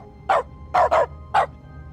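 A dog in The Stanley Parable barks four times through a console command: short separate woofs, one early, a quick double pair, then one more. The barks sound near and clear over a low game hum, with no talk.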